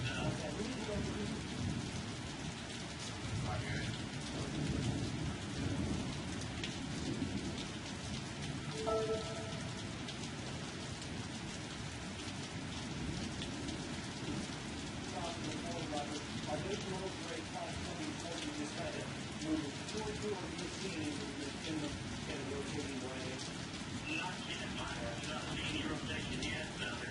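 Thunderstorm with heavy rain as a tornado approaches Tuscaloosa, Alabama: dense, constant rain hiss and drumming with low rumbles of thunder, while people talk faintly beneath.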